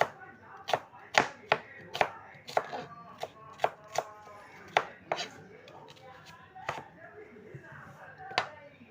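A knife slices onions thinly on a board, sharp irregular chopping taps repeating close up, with a voice speaking quietly in the background.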